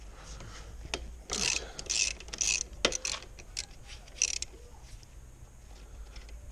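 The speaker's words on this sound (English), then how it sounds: "For this one, let me try the 12 millimeter one. The 12 millimeter socket works here." Ratchet with a 12 millimeter socket loosening a bolt on a Suzuki VanVan RV200 motorcycle fork, giving a few close bursts of rasping clicks with metallic knocks between quieter stretches.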